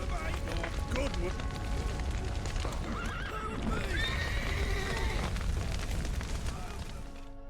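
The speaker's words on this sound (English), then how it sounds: "The horses!" Horses whinny and gallop in The Witcher 3 role-playing game, with repeated neighs over running hoofbeats and low rumbling booms, all fairly loud and continuous throughout.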